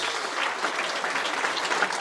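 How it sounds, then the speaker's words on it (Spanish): A church congregation gives a warm welcoming applause, a continuous wash of many hands clapping at a steady level, fairly close and without speech over it. "Yo pido que por favor le demos también un aplauso a él de bienvenida."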